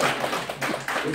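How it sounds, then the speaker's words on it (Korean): Applause from an audience at a Rotary club meeting in Korea: a short burst of scattered, fairly soft hand claps over about a second, with no talk over it. "이 대목에서 박수 드립니다"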